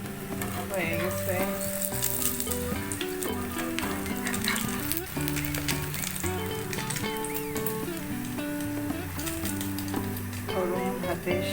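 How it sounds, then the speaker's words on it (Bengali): Eggs fry in sizzling oil in a pan with a little dried red chilli added, a steady close crackle running throughout beneath louder tonal music that partly masks it. "গরম ভাতের সাথে ডিম ভাজা। আমি একটুখানি শুকনা মরিচ মরিচটা দিয়ে দিচ্ছি। তেল ছিটতেছি।"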